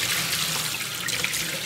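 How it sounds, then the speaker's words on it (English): Cold tap water runs steadily into a sink while deer meat cuts are being rinsed by hand, a continuous close splashing flow with no talking. "I'm just running cold water"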